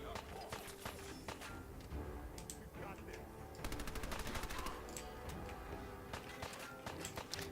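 Rapid automatic weapon fire with incendiary rounds in the Fallout video game, heard as dense, continuous bursts of loud clattering shots over steady game background noise, with a voice talking over it.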